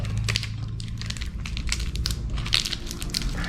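Steady crackling and popping of batter-coated tofu skin rolls with pork filling frying in hot oil, continuous and fairly close, with dense sizzling bursts throughout.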